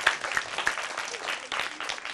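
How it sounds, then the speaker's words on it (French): Applause from an audience welcoming children at a private school's appearance on a televised Sambou children's show, a brief burst of scattered clapping with a voice faintly underneath. "On applaudit très très fort les enfants."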